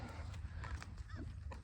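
A horse ridden bareback through Florida jungle and swamp country gives a few faint, scattered hoof knocks over a steady low rumble, quiet and slightly distant.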